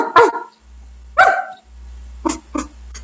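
A dog barks sharply twice, close and loud, then gives three shorter, quicker barks, with a low hum running underneath.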